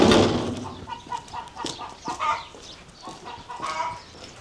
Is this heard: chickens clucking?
yes